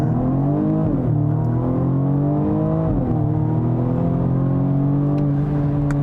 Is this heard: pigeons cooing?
no